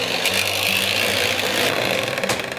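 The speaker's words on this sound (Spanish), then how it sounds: "vamos a batir las yemas." Electric hand mixer beating egg yolks in a bowl for a tres leches cake, a continuous buzzing motor whir with a scraping rattle, close and steady with no talking.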